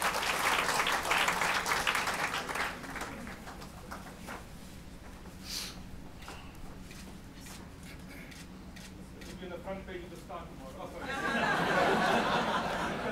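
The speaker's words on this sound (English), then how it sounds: "some applause for him as well, please" Audience at a book launch breaking into applause, dense clapping that fades to scattered claps and murmurs with a few chuckles and voices before a second burst of clapping rises near the end.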